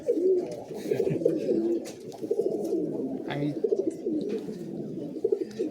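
A flock of Giribaz pigeons at a home loft coo in a steady, overlapping murmur of throaty, rolling calls, close and moderately loud throughout, with faint background noise.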